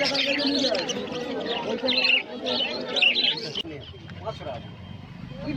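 Cockatiels and other caged pet birds at a bird market chirp and tweet in busy, overlapping bursts while someone talks over them, the chatter dropping away near the end.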